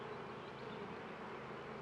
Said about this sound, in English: Look how calm those bees are.